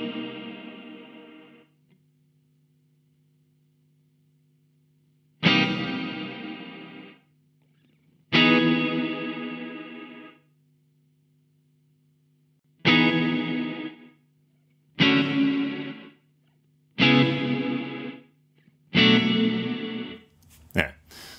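Electric guitar played through a Baby Audio Crystalline algorithmic reverb set to a quick release: seven separate strummed chords whose reverb tails cut off abruptly into silence, with a low steady hum between them.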